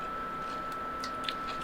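A person quietly bites and chews a crisp walnut tart, with soft crunches close by over a faint background hum.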